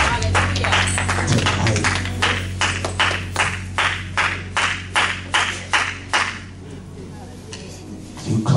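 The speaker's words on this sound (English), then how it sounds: "Clap your hands as you take your seat" A church congregation claps in unison during a 2012 conference service: a loud, steady run of sharp hand claps that gradually thins and fades, with a brief spoken word near the end.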